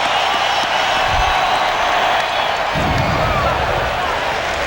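A packed, mostly standing stadium crowd at a 1997 World Series baseball game between Florida and Cleveland roars steadily in the distance, cheering swelling around a full-count pitch while a broadcaster talks over it.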